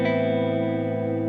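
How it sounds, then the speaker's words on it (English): A sustained minor add-nine chord with a dark, rich tone held steadily at even volume, heavily processed with effects. "Now minor add 9s sound like this."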